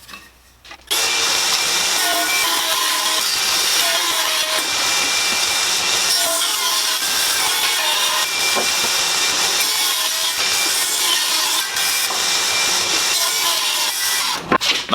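Table saw ripping a wood board to a 2.5-inch width, a loud, continuous whining cut that runs unbroken for about fourteen seconds before winding down.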